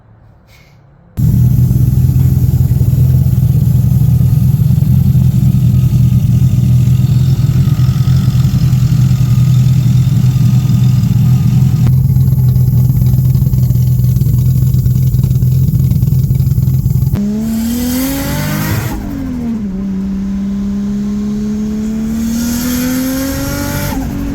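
Loud, steady drone of a Nissan Skyline R31 with a turbocharged RB30E engine and newly fitted cam, running continuously close by, then shifting into rising and falling revs as the car pulls away and drives, with no talking.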